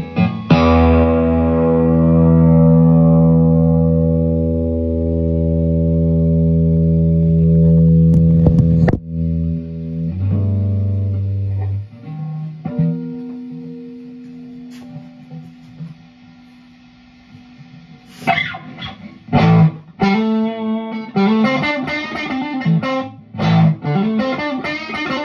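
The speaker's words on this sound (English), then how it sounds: "now we're gonna turn the volume on the guitar up a little bit" Electric guitar through effects with distortion, sustained loud chords ringing and fading, followed by choppy picked notes and bursts of distorted strumming near and loud, with no talk.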